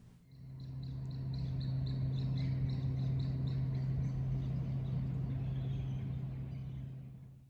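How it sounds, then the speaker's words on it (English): At an empty St Marys metro station in Sydney, a steady low hum from a nearby building runs under a series of quick, faint birds tweeting overhead. "Just the sound of birds tweeting and the quiet drone of a nearby building that is soon to go."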